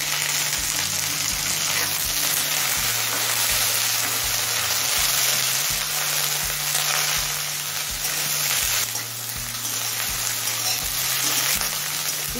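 Beans, eggplant and slit green chilies frying in a pan give a loud, steady sizzle, with repeated scraping and stirring strokes breaking in at a regular pace and no voices.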